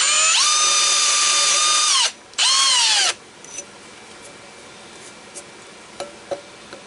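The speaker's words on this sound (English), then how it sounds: "the chuck on this drill is kind of worn out" A loud power drill with a worn chuck whirs steadily while drilling a hole in tubing, stops briefly, then spins up again for another second before cutting off, leaving quiet room noise with a few small knocks.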